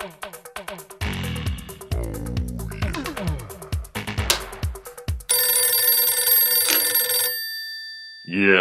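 An old telephone rings loudly in repeated bursts, preceded by rotary-dial clicks and other clattering sounds, with no talk over it.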